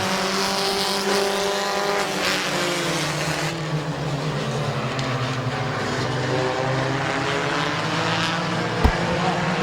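Race cars roar around a speedway during an evening heat race, a loud steady blend of engines rising and falling as they pass, with a brief sharp knock near the end.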